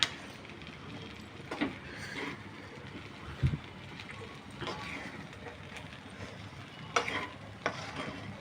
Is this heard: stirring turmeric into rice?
yes